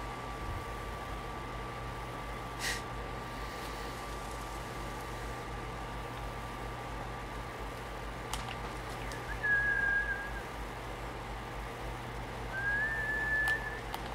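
In the video game Ghost of Tsushima, a player whistles for a horse: two short rising whistles stand out against a steady wash of background noise, the second longer than the first, faint and fairly distant.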